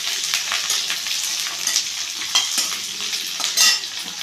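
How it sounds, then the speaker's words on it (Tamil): Raw plantain (vazhakkai) with coconut and salt sautéing over a low flame for kola urundai, a steady soft sizzle with scattered scraping stirs and spoon taps, close and continuous with no talk. "சிம்மில் வச்சு வதக்கிக்கோங்க."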